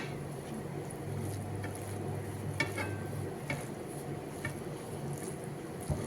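Food is stirred and mixed in a pan, giving soft scraping clicks over a steady low sizzle and hiss at moderate volume.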